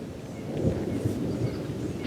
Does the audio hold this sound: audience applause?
no